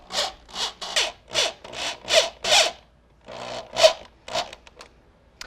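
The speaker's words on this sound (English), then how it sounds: "add some heavy-duty interior construction wood screws to screw it all down" Heavy-duty wood screws are driven into a wooden desk top, giving a series of rhythmic rasping, grinding bursts, about nine close, loud strokes with short pauses between them, then a few quieter scrapes.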